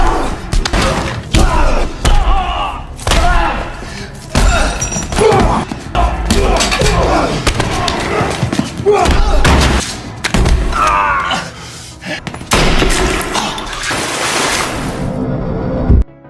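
Two men savagely striking each other during a struggle against a wall, heavy thuds and slamming blows landing in quick irregular bursts, loud and close amid dense scuffling noise.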